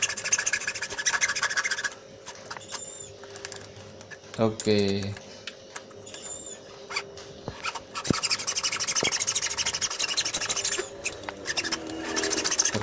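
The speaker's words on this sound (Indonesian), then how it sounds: "Kita potong gergaji-gergaji." Rough rasping strokes of a hand saw cutting through material while building a tempeh mold, pausing briefly midway before resuming in a steady back-and-forth rhythm; a voice speaks briefly.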